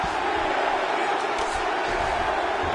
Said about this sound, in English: huge pop from the crowd as the fighters get back up to their feet